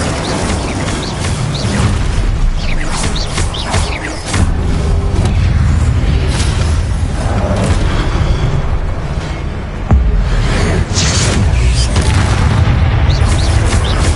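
Spell blasts and booming impacts from Hogwarts Legacy combat on PS5, a dense, continuous barrage of loud explosive bursts and crashes filling the whole stretch, with heavy low rumble throughout.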